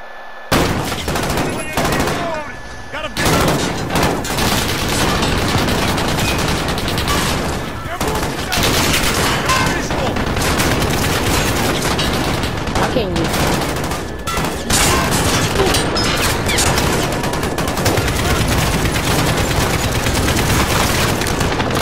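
Dense, relentless gunfire from a video game story mode, rapid bursts and booms overlapping almost without pause for the whole stretch, loud and close, with a voice speaking at times beneath it.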